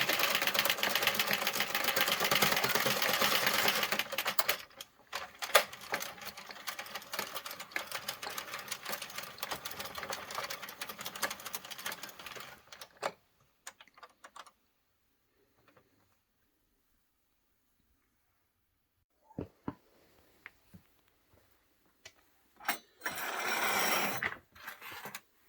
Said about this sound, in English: and then just knit without the yarn.